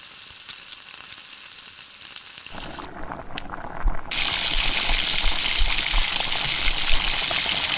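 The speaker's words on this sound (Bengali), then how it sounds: "আর একটু কষিয়ে দিয়ে দিব চিকেনগুলো।" Chicken pieces frying with spices in a pan for morog polao, a steady close sizzle that swells louder partway through, with soft stirring noises and no talking.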